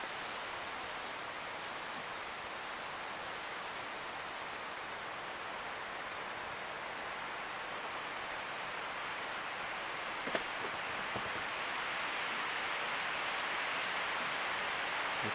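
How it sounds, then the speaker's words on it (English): Strong wind during a mid-November wind storm on Salt Spring Island, a steady broadband roar with no let-up, rising slightly toward the end with a brief sharp gust or knock near the middle. "It's really blowing across the street at the beach. I can hear the wind big time."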